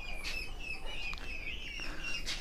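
Young pheasant chicks on a breeding farm chirp in thin, high peeps, a steady faint chorus with a few louder calls near the start and end, no talk.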